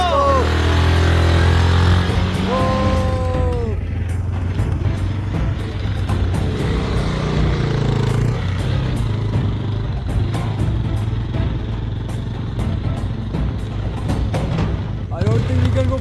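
A vehicle drives along a rough village road, its engine a steady low rumble throughout, with people talking and calling out over it and some rattling and knocks from the ride.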